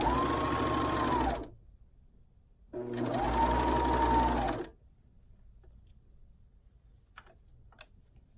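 A sewing machine stitches a seam on a reversible scoop bikini in two bursts of steady, fast whirring, each lasting about a second and a half, separated by quiet pauses. A few faint clicks follow the second burst.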